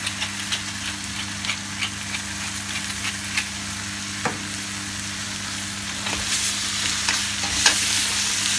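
A spoon works through a pot of Persian lamb ghormeh sabzi stew, giving a steady close scraping stir over a constant low simmering hum, with a few sharper clinks, and no voices.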